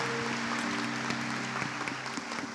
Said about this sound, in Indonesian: tepuk tangan dulu untuk Tuhan Yesus yang luar biasa.